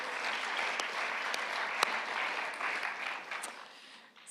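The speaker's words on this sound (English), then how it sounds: "So let's give ourselves a clap." Audience applause at a presentation, a dense, even patter of many hands clapping with a few sharp louder claps standing out, moderately quiet and tapering off at the end.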